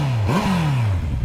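A short, close rev of a stock 2019 Honda CB650R motorcycle engine: the pitch rises sharply, then slowly winds back down toward idle.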